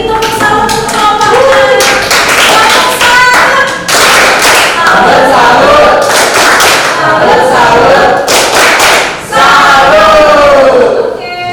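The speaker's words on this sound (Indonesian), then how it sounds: "Beri tepuk tangan untuk kelompok" A classroom applauds a student group after their Archimedes buoyancy experiment, with loud, fast clapping and some cheering voices, briefly dipping before resuming strongly.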